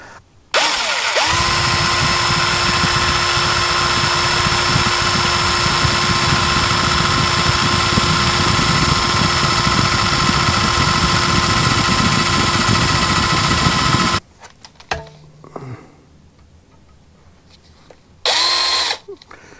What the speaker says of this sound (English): Now I can just drill those out.